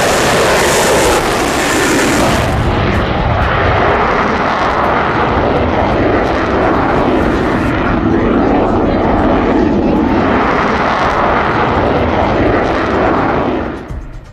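Rafale fighter jets at the Jodhpur air force station roar loudly and continuously, a broad powerful engine rush that swells and shifts over about fourteen seconds with no talk.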